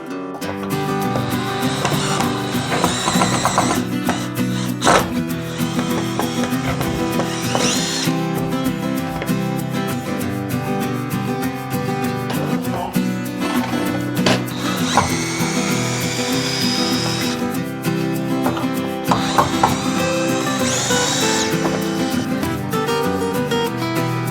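Power drill driving fasteners into wooden decking of a rabbit hay storage platform, several bursts of whirring at close range over a steady backing of music, with a dog barking faintly in places.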